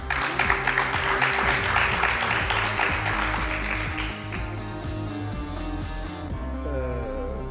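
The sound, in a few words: studio audience applause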